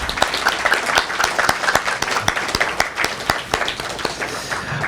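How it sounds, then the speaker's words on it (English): A crowd at a community reading showcase claps in a lively round of applause, with sharp individual hand claps standing out close by over the fuller clatter, fairly loud and continuous. "please help me in giving you all a round of applause"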